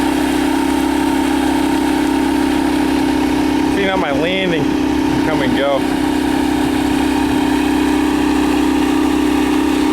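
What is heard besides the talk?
boat engine running in gear with a little throttle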